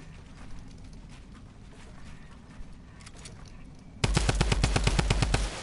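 Video game gunfire during a multiplayer match with friends: a loud, rapid automatic burst rattles near the end, preceded by quieter scattered shots and background game noise.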